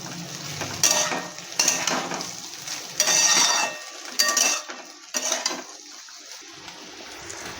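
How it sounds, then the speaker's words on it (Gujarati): Bitter gourd and potato curry being stirred in a pan, with five separate scraping bursts of a spoon against metal over a low background sizzle, loud and close, then a quieter tail. "આપણે જરૂર મુજબ થોડું મીઠું એડ કરી ને હલાવી દઈશું"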